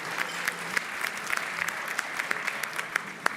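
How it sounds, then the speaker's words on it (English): Applause from a gala audience for a performer, steady clapping with a few sharp, distinct claps standing out near the front, continuing for several seconds without talk. "a round of applause for her"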